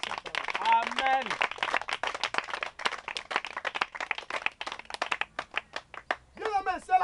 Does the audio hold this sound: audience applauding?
yes